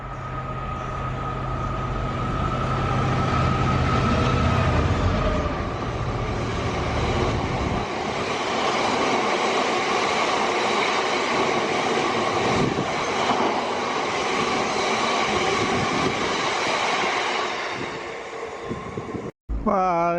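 A passenger train on a London service passes close by on a West Midlands line, with a steady loud rumble and rolling wheel noise for the whole stretch that fades slightly near the end.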